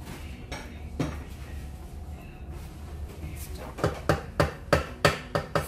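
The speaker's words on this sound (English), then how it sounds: "Mix it up well so every rice grain is getting Good masala." Mutton biryani rice being mixed with masala in a kadai: a soft scraping backdrop, then a run of sharp, evenly spaced metal clanks of a spoon striking the pan, close and growing louder toward the end.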